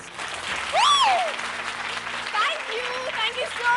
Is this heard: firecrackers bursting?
no